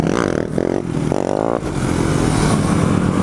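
A race quad engine revving hard during pit riding, among a DS 450, KFX 450 and Outlaw 500, with rising and falling throttle sweeps in several pulls before a rough, steady drone, loud and close.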